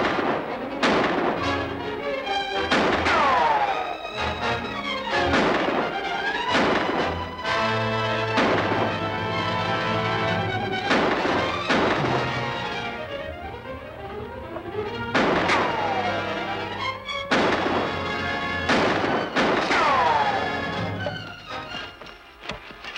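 Repeated heavy blasts and gunfire-like bangs in a 1947 Western action scene, where cakes of coal oil are used to blast men out of hiding. The sharp bursts come at irregular intervals over a loud orchestral score.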